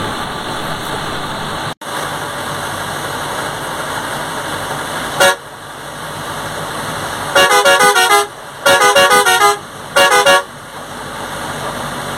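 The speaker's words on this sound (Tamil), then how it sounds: "இது வந்து ஜூபிட்டர் ட்ராவல்ஸோட பஸ் எங்களை ஓவர்டேக் பண்ணது" Jupiter Travels bus passes on a Tamil Nadu highway with a steady road and engine drone, then sounds several loud repeated horn blasts in rhythmic bursts as it overtakes.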